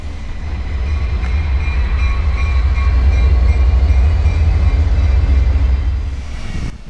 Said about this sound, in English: where a huge freight train was pulling in